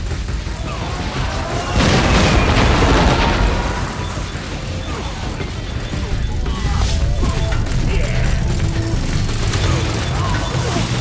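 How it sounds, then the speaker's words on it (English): Bombing run explosions in the Art of War: Red Tides mobile game, a dense stretch of booms, bursts and crashing impacts rolling on continuously with a loud swell early on, game voice lines mixed in. "Please use your Commander Skill Bombing Run."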